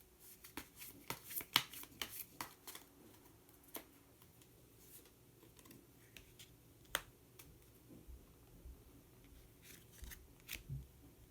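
Colour cards being shuffled and drawn from a deck at a tarot-style reading, a quiet flurry of crisp riffles and snaps up close, then sparse soft flicks and taps.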